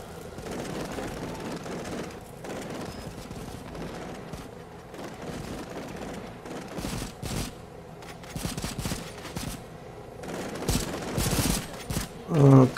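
Soldiers fire in Cepheus Protocol, with repeated bursts of rifle and machine-gun fire, some near and some distant, over a low engine-like rumble, ending in a louder volley.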